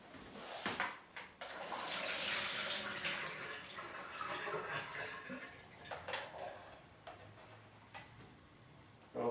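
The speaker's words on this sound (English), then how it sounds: "I'm just going to strain the water out of these." Soaking water from overnight-soaked cashews drains through a strainer into a sink, a rushing pour that swells early and then trickles and splashes in quieter bursts, with a few knocks of the container near the end.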